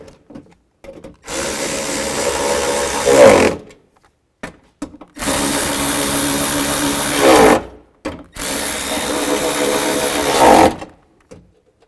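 A power tool tightening bolts on a 2005-2015 Nissan Xterra door during window regulator replacement, running in three loud sustained bursts of a couple of seconds each, separated by short pauses.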